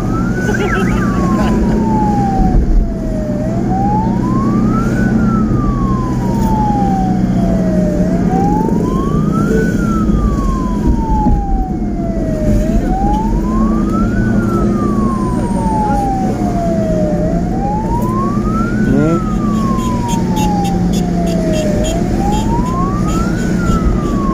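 A wailing ambulance siren with escort vehicles sweeps up and down in a steady repeating cycle, loud and close, over heavy traffic rumble and some talking.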